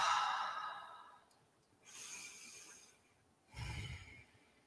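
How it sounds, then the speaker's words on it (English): Slow, regulated breathing close up: a long exhale, then two more unhurried breaths in and out, soft and quiet with pauses between. "we're going to start to slow down the breath and regulate the breath"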